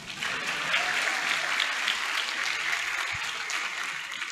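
A large audience at an Islamic lecture breaks into sustained applause, a dense even roar of clapping that holds steady throughout.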